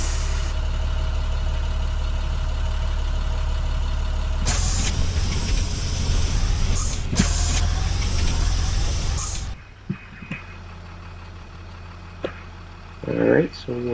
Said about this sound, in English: Same Maxxforce DT engine sounds.